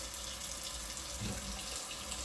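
Tap running into a sink while ingredients are washed before making honey: a steady broadband rush of water, moderate and close, with no talk.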